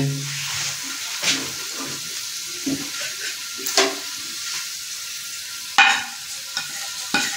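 Cumin seeds go into hot oil with golden brown garlic for a shahi daal mash tempering, giving a steady close sizzle. A spoon clinks and scrapes now and then, and there is no talking.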